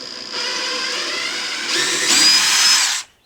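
A power drill backs out special deck screws with a steady, close whine that rises in pitch and strain partway through, then stops abruptly.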